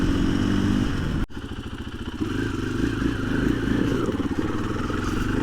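A 2024 KTM 500 EXC-F dirt bike riding uphill on a rough road, its engine droning steadily near the rider with a sharp jolt and clatter early on, then continuous throttle over the terrain.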